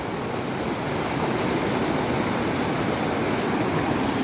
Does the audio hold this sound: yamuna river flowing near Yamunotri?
yes